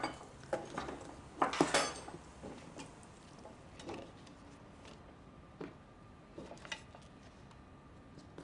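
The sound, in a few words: vegetable strips being put into a pan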